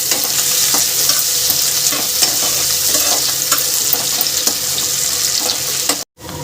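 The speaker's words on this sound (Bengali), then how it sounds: "পেঁয়াজটাকে আমি এবার লাল লাল করে ভেজে নেব।" Chopped onions fry in a pan for a prawn and potato curry, a loud, close, continuous sizzle broken by scraping stirs, cutting off briefly near the end.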